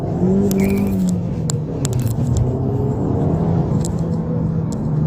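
An Alfa Romeo Giulietta Quadrifoglio with a chip-tuned turbo engine accelerates, heard from inside the cabin as a steady engine rumble and rising drone with faint clicks.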